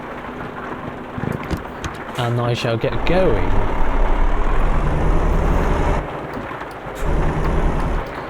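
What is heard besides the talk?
rain and thunder in Euro Truck Simulator 2 video game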